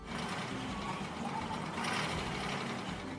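A gasoline car engine with a fault runs with a steady, rough rumble and a knocking, clattering quality like a diesel, continuously at close range without any talking.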